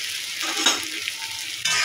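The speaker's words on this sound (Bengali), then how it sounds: "এই ঘিয়ের মাঝে সাগুগুলো ভেজে নেব।" Sago pearls frying in hot ghee, a close steady sizzle with a couple of brief stirring scrapes.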